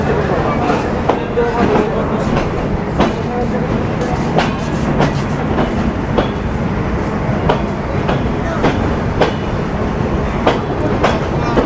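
Ruposhi Bangla Express passenger train pulling away from Jessore Junction, a loud, steady rumble with rhythmic clickety-clack of wheels over rail joints running throughout, heard from on board.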